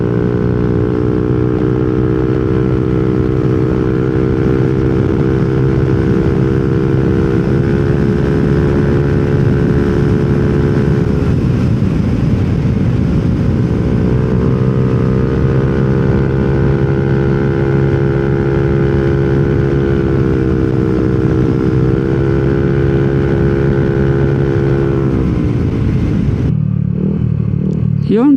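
A Yamaha Nmax scooter fitted with a TSMP CVT set and a 28 mm elbow muffler runs at steady cruising speed. Its full, deep exhaust note is loud and close under constant wind rush, with a brief throttle dip midway and an easing off near the end.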